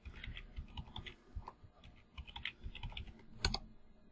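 A password is keyed on a computer keyboard, quick irregular clicks of individual keys spaced a little apart, ending with a sharper press, all fairly faint.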